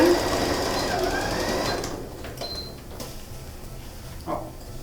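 A sewing machine stitches a reinforced seam on a gathered fabric cap, its steady mechanical whir running for nearly two seconds before stopping, followed by quieter clicks and handling noises.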